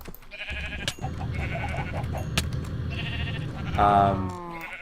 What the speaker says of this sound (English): I don't know if I can shear the sheep, but you know what? I can just kill them.